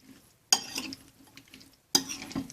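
Cucumber salad with spices being stirred in a bowl, two distinct bursts of wet, clattering mixing scrapes separated by a brief quiet gap, close and clear with no talking.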